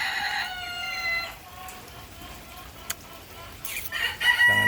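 Backyard chickens clucking with a rooster crowing, the crow bright and fairly near over a soft steady background with a few sharp clucks, one bird among the flock sick during a stretch of heavy rain.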